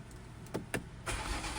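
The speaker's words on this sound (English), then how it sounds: "I went ahead and turned on the engine to make sure that everything was firing in all 6 cylinders" A BMW X3 M with the S58 inline-six, just serviced with new spark plugs, cranks briefly and catches, then settles into a steady idle, heard close up with no one talking.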